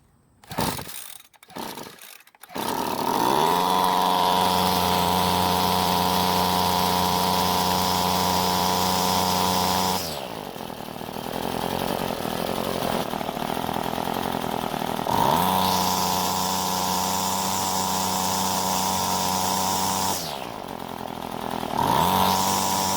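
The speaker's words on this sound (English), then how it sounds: "So it started and ran, but when I squeezed the throttle, the engine wasn't getting to full speed" A gas string trimmer engine is pull-started and runs steadily at a loud, near, two-stroke buzz, dropping to a lower idle at about 10 and 20 seconds and then climbing back up. The carburetor is out of tune and the engine fails to reach full speed.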